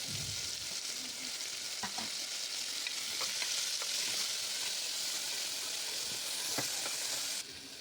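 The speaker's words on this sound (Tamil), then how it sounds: "தக்காளியும் போட்டு நல்லா வதக்கிக்கணும்" Tomatoes sautéing in a pan for Chettinad mutton kulambu, a steady, moderately loud sizzle running the whole time, with a few soft knocks of stirring scattered through it.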